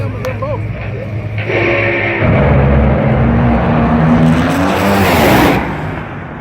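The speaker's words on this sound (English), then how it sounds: "It's the last car in the pits that still whacks the throttle." A loud NHRA drag racing car engine in the pits at Wild Horse Pass Motorsports roars and revs up, its pitch climbing and then falling back, with a constant mechanical rumble and chatter underneath.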